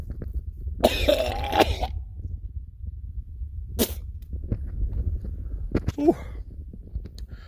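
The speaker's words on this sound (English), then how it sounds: "I just coughed up a lung right there." A man out on a mule deer hunting hike coughs and clears his throat in a few harsh, close bursts, with quiet outdoor background and some breathing between the coughs.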